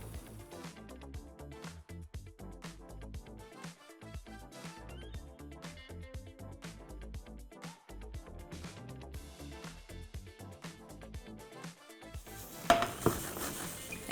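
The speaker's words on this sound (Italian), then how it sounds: "e poi la sgraniamo grossolanamente in padella." Sausage is broken up in a frying pan, making a busy run of scraping and clinking utensil taps against the metal, close and fairly quiet over a soft sizzle, with a louder clatter near the end.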